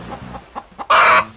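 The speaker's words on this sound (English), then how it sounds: "You're just a little parrot." A cartoon toy parrot squawks in a loud, harsh burst near the end, after a few softer chirping calls in a toy play scene.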